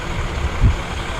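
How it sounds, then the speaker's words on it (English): A 1937 iron-wheeled John Deere tractor rolls past in a parade, a steady low engine rumble with one brief swell as it passes nearby. "Nice old iron-wheeled John Deere,"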